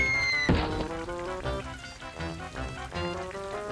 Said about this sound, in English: Hey Ruth, it rains water.